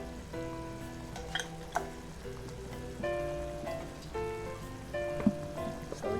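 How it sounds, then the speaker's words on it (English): Pork menudo stirred in a pot with creamy tomato-paste sauce: soft scraping and gentle bubbling sizzle, with faint tonal background music, no voices. "So just keep on stirring."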